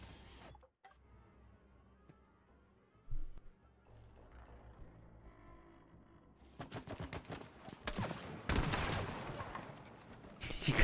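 Bursts of gunfire in the video game It Takes Two, a loud, dense volley building over the final few seconds after a quieter stretch of game sound.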